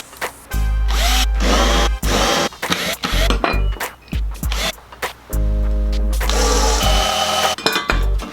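A power drill bores holes through metal mounting brackets in repeated loud bursts, each whine starting and stopping abruptly with brief pauses between them.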